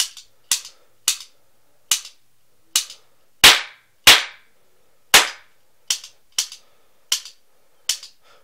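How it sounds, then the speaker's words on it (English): Toy cap gun firing a roll of caps, about twelve sharp cracking pops spaced unevenly over several seconds, a few louder than the rest, close and alone with no talking. "So yeah, that's basically a cap gun."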